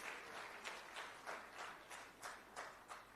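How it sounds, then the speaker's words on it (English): A large audience at the ANC national general council claps for a political speech, a distant crowd applause with a loose rhythmic pulse of swelling claps, fairly faint. "We have to applaud them."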